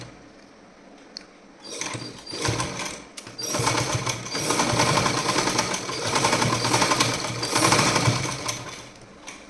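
A sewing machine stitches a pillow cover in bursts, starting after a short pause and then running in a fast, continuous mechanical rattle that rises and dips.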